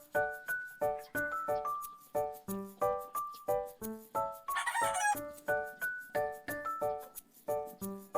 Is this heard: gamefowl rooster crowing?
yes